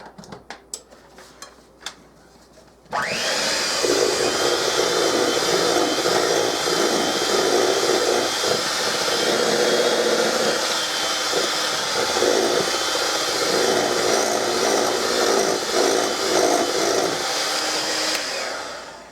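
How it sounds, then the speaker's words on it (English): After a few quiet clicks, an electric mixer starts up and runs continuously through butter cookie dough, a loud steady whirring drone with slight shifts in tone as the beaters work, stopping near the end. "Let's see what the mixer does."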